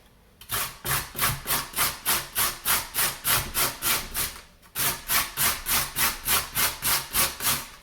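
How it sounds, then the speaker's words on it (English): Courgette and carrot rubbed against a hand grater in quick, rhythmic strokes, about two per second. Each scrape is loud and raspy, up close, with a brief pause partway through before the steady grating resumes. "It's really good to have a grater, especially for things like courgette and carrot."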